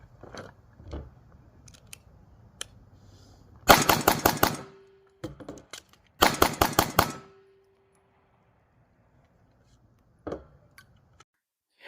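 Two rapid strings of pistol shots ring out from a drill drawn from a holster, each burst of about five sharp cracks close together, separated by quiet pauses with faint clicks and handling sounds.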